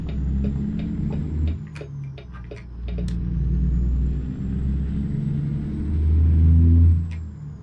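A truck engine in American Truck Simulator rumbles loudly and steadily while driving. Low-pitched drone rises and falls through gear shifts, with sharp clicks and ticks over the top.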